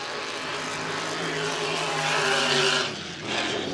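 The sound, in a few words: H350 hydroplane racing boat at full throttle in a turn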